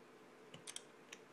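An iPad 2 Smart Cover snaps magnetically onto an iPad, giving a few faint, short clicks spread over about a second in a quiet room.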